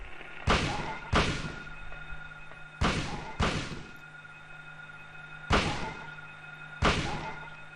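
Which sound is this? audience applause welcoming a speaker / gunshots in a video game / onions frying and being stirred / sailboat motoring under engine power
gunshots in a video game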